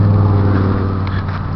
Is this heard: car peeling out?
yes